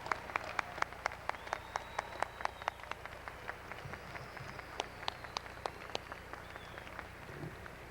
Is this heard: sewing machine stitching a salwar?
no